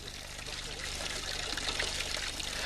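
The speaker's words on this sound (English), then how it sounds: "now the water comes down the pipe from the hill and comes out of this fountain" Water from a hill pipe pours from a village fountain in a constant, faint, splashing stream, with a voice speaking over it.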